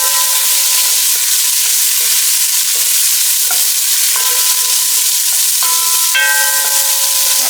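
Chicken and pork adobo cooking in a pan, a loud, continuous close sizzle and hiss with repeated bright metallic clinks of a utensil against the pan throughout.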